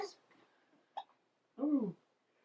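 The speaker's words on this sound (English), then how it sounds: "Now you got hiccups." A one-month-old baby girl hiccups softly up close, with a few small catches followed by a louder voiced hiccup, in a quiet room with faint adult voices nearby.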